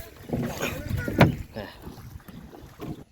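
A rowboat is paddled through monsoon floodwater, with close watery splashes and oar strokes amid breezy outdoor noise and a faint voice.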